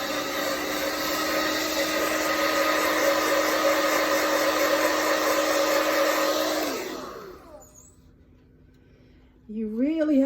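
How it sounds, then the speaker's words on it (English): A blow dryer aimed at a clay flowerpot whirs loudly and steadily for about seven seconds, then shuts off and winds down to near silence before a voice starts speaking at the end. "And then you put a blow dryer on it."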